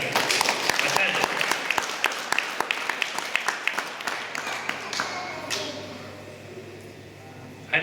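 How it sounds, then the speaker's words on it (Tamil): An audience at a temple consecration (Kumbabishekam) for the Sri Kamakshi Ambal Temple claps, with rhythmic, fairly close applause fading out after a few seconds. "ஒரு கைத்தட்டு முதல்ல கொடுங்க"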